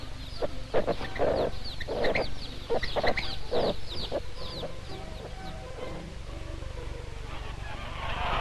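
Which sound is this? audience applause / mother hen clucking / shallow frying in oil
mother hen clucking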